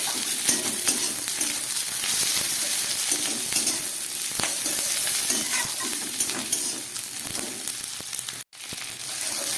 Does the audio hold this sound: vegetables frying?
yes